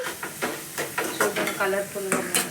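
Noodles being stirred with chili powder and salt in a hot pan, with close scraping strokes and light sizzling in a quick, repeated rhythm.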